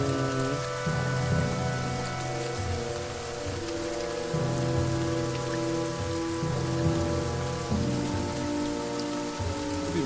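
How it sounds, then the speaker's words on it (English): Steady rain falls continuously in the video game The Banner Saga 2, an even hiss of drops layered over sustained musical tones, with no voices. "The rain continues."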